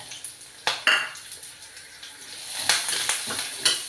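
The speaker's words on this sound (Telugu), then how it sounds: "ఇందులో పల్లీలు వేసుకుందాం." Peanuts tumble into a pan with garlic and cumin and begin roasting, producing a few sharp clattering impacts and scraping stirs over a soft sizzle, close and brief.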